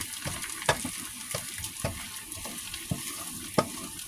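Eggs scrambled in a frying pan that isn't non-stick, over a low flame, give a quiet steady sizzle broken by scattered scraping and tapping stirs of a spatula, with no talking.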